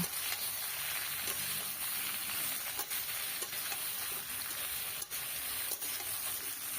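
Bottle gourd, potato and prawns fry in a pan over a wood fire, a dense continuous sizzle broken by occasional soft clinks of the stirring utensil, loud and close.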